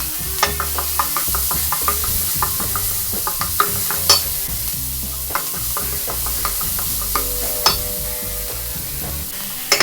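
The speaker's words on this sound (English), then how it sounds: "We saute the rest of the onions, garlic, and celery. And then we add in our vegetables one by one." Onions, garlic, celery and vegetables sizzle steadily in a hot pan, with close, repeated stirring scrapes and light knocks of a utensil throughout, no talking.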